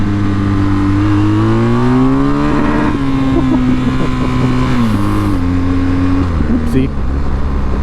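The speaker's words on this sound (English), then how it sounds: "I'm used to engines that rev out a little bit more than this" A BMW GS 1250 motorcycle engine revs and settles, its low steady drone rising and falling in pitch several times at close range, with a brief spoken exclamation over the engine near the end.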